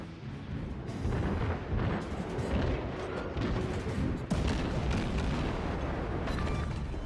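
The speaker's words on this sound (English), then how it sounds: "Loading shots into the Katori now." Warship guns fire in World of Warships, aboard the Japanese training cruiser Katori: heavy booming salvos roll into one another with sharp blasts near the one-second and four-second marks, loud and sustained, with no talking.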